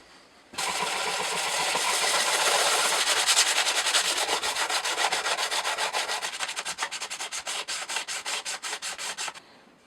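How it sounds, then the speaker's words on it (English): Wood being sanded flat for a cigar box guitar build, a loud, continuous abrasive rasp that turns into a rapid back-and-forth rhythm before stopping. "So now I think I'm just going to sand this lot flat."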